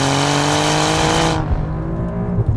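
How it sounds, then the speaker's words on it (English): A 2020 Alfa Romeo Giulia Quadrifoglio's engine roars loud and close while driven hard into a corner, its steady high drone cutting off abruptly partway through and giving way to lower rumbling and road noise. "it sounds way better from the outside, and let's see how it is sending it through cliche corner"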